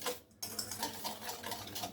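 Eggs and sugar being mixed for cake batter, a steady fast whisking and scraping against a bowl, faint and close with a brief pause near the start.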